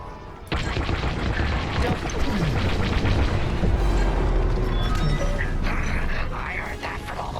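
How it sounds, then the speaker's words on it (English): A core explosion in the video game Star Wars Squadrons: a sudden heavy blast that swells into a long, loud rumbling roar over several seconds, with game voices speaking over it. "You won't have much time to get out once the core explodes"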